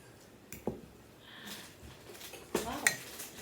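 A utensil stirs rose buldak ramen in a bowl, giving a few faint clinks and soft scraping sounds, quiet and close, with light talk nearby.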